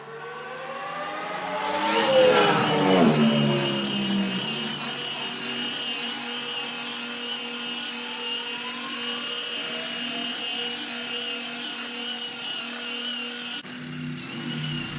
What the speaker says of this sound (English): Now that it's all sanded and dried, it's time to polish.